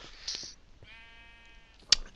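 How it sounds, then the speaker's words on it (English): A sheep in the Minecraft video game gives a couple of short, nasal bleats, one around mid-clip with a tonal wavering cry, plus a brief sharp sound near the end, otherwise quiet with no talking. "So I've got my sheep"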